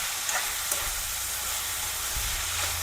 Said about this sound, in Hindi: जैसे ही वेजेस ना पक रही है ना, ये आप देखते हैं ना, इसको बस हम पकने देंगे